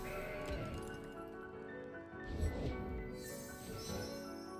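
A goat card played in Legends of Runeterra gives a short bleat, heard twice over steady game music with no talking.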